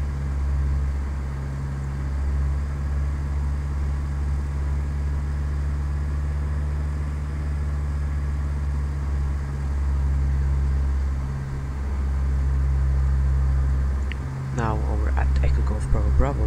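A Cessna 172 lands at Birmingham in FSX, its steady propeller-engine drone continuous and fairly loud, with a brief change near the end as it touches down; someone speaks over the engine.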